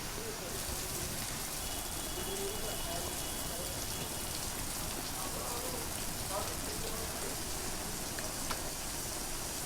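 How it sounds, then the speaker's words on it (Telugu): Heavy torrential rain in Hyderabad, a dense, constant roar of downpour hitting surfaces, loud and unbroken throughout, with faint traces of voices underneath. "హైదరాబాద్ లో వర్షం దంచి కొడుతోంది."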